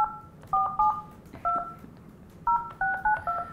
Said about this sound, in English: Dude, you're so good at everything but dialing a phone.